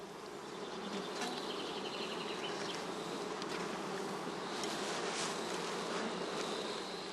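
A dense, steady drone of many honeybees buzzing close together at a skep hive, continuous and even throughout with no voices.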